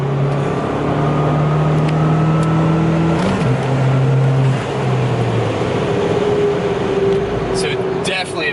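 A Ford Fiesta ST on a stage 2 tune accelerates, its engine drone rising steadily in pitch, then shifting and climbing again, heard from inside the car with voices talking over it.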